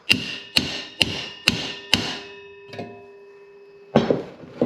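Five sharp, evenly spaced metallic taps ring out as a Porsche 914 megaphone exhaust piece is knocked down into place, then a short pause and a final cluster of quick taps.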